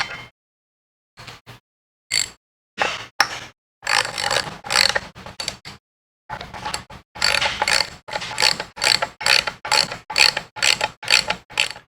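Ratchet tightening the brake rotor bolts on a Harley-Davidson, close and loud rapid clicking strokes in repeated bursts, separated by short silences, with no talking.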